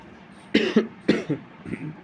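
A man with a cold gives a few short, close coughs in a quiet indoor room, two main bursts followed by a weaker one, with no talk over them.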